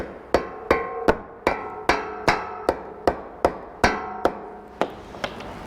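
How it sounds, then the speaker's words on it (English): A ratchet bumps a plus nut into a drilled hole on a Lexus GX 470 roof, about a dozen sharp metallic taps at a steady, slightly uneven pace, each ringing briefly, close and alone. "So I'm just going to bump it with my ratchet."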